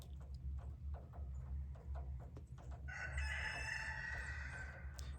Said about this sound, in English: freaking roosters, man